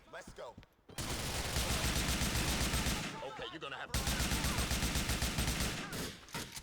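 Sustained automatic gunfire from a GTA IV club shootout in Liberty City, loud and dense bursts filling nearly the whole stretch, with a brief lull midway where a voice cuts in before the rapid shooting resumes.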